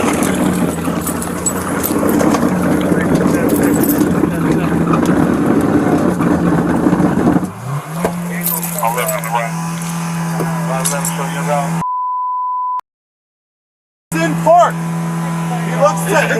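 A car engine revs loud and steady with the gas held down, then drops to a lower drone, with voices talking over it and a brief gap of silence near the end.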